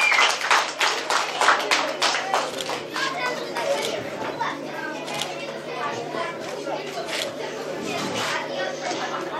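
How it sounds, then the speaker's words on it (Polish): Applause at a youth football tournament award ceremony, with sharp distinct claps loudest at the start that thin into scattered clapping, while children and adults chatter in the background. "Wielkie brawa."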